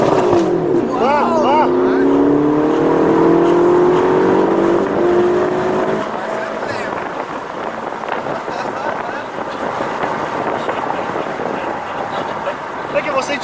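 A Ferrari California T with 560 hp accelerating at full throttle: a loud, close engine roar climbing steadily in pitch for several seconds, then dropping into a rougher, lower drone as the throttle lifts, with a passenger's voice briefly heard.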